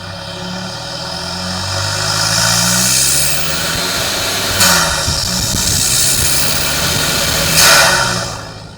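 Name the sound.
Toyota Hilux N80 1GD engine with stainless snorkel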